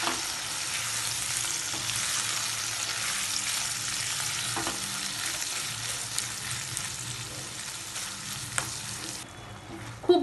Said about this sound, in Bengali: গরম মশলার গুঁড়ো, দিয়ে খুব ভালো করে এটাকে মিশিয়ে নিতে হবে আর কিমাটাকে আমি হালকা ফ্রাই করে নেব।